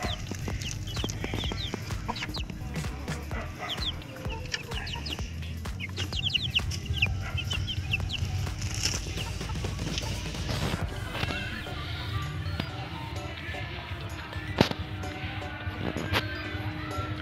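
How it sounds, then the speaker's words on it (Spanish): Many newly hatched chicks from a homemade incubator peep continuously in high, overlapping chirps over a low background hum, with an occasional sharp clatter nearby. "aquí le tenemos a los pollitos de la incubadora anterior"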